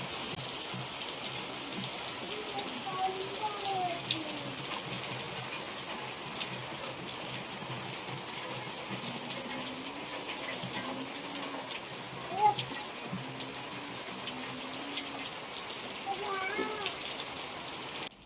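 Steady rain falls for the whole stretch, a dense even hiss of drops on surfaces around a home, with faint voices murmuring underneath at times.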